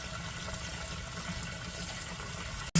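A sump pump runs in a basin, pushing water out toward a lawn French drain, giving a steady, moderate rushing water noise with a low pulsing hum, ending in a sudden click.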